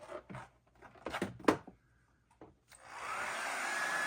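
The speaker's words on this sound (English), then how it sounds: "blow dryer" A blow dryer switches on after a few seconds of soft handling clicks and rustles, then runs loud and steady with an even whooshing roar, used to warm craft material for a gnome.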